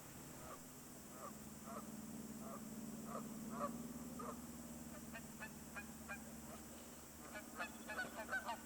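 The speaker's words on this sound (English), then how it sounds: "Some other geese were also working on establishing territories in the rest of the marshy pond." Repeated nasal honks from several geese carry across an open outdoor space by a marshy pond in Elk Island National Park in spring, steady calls, moderately distant, with a busier burst of honking toward the end.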